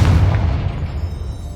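A fiery Confringo spell explosion in the video game Hogwarts Legacy, a loud deep boom that hits at once and rumbles away over about a second and a half, with no voices.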